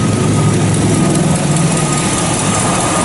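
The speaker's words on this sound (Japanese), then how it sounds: "久しぶりにエンジンかけたな。" A 1946 Cadillac engine idles steadily and close by after being started, a loud, continuous low rumble with a constant mechanical drone and no talking throughout.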